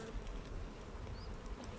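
Honeybees hum in a dense, steady buzz at an opened hive during inspection, freshly emerged young bees clinging to the frames, the drone close and continuous with no talk.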